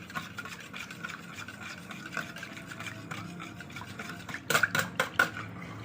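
Crepe batter of flour, pepper and salt being stirred in a bowl, a steady soft scraping and swishing, then a few sharper clinks of the utensil against the bowl near the end.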